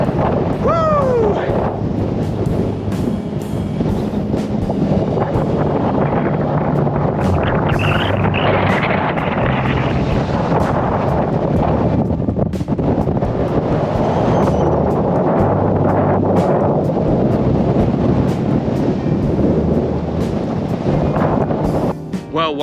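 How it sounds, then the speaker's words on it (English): Strong, relentless wind roars on an exposed fell summit, buffeting the microphone in a loud continuous rush for the whole stretch, with gusts swelling and easing and a person speaking briefly over it. "That wind is properly strong."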